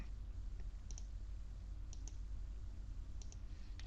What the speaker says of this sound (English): then we're going to type in the problem